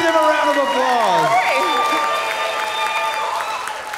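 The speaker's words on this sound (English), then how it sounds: "Give them a round of applause" Audience applause after an improv scene at a live improv show, mixed with cheering and voices; the clapping stays fairly loud and sustained throughout while excited voices ring over it.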